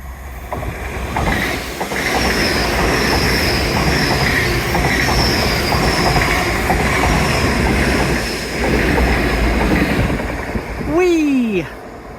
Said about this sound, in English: first proper train of the day, and it's a happy one